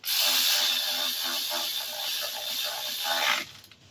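Ratchet tightening intake manifold bolts on a GMC Acadia 3.6L V6, a close, continuous run of quick clicking and mechanical whirring for about three seconds before cutting off.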